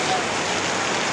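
Heavy rain pouring down onto a vegetable garden: a dense, steady hiss of countless drops hitting leaves and soil, loud and unbroken, with no other sound standing out.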